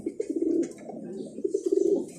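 Pigeons cooing nearby, a few soft throaty coo phrases in two close bursts, with light background noise.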